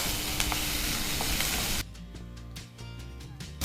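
Capsicum frying in a pan for chutney, a loud, dense sizzle that drops suddenly to a softer crackle with scattered pops as cooking continues, no voices over it.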